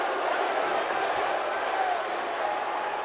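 Wrestling arena crowd in WWE 2K17 during a Sheamus versus Orton match, a constant roaring wash of cheers and shouts filling the hall without pause.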